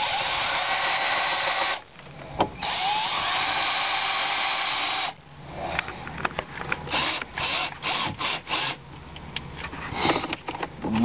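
A power drill drives a screw into the dashboard of a 2004 Honda Civic during a radio install, whirring steadily in a long buzzing run, then in short bursts with brief pauses, close to the mic.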